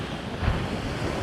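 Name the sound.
ocean waves crashing on the beach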